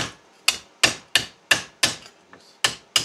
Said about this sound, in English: Just work it down. A hammer.